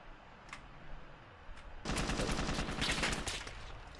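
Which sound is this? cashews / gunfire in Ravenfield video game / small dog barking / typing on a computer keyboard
gunfire in Ravenfield video game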